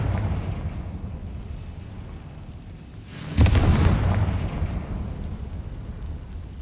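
A Confringo blasting spell goes off in the Hogwarts Legacy game: a single loud booming explosion midway that cuts sharply through a steady low ambient rumble, then fades into a lingering roar.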